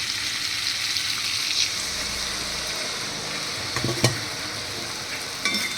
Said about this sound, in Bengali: এবার আরেকটুখানি জল দেবো, একদম অল্প পরিমাণে একটু জল দেবো।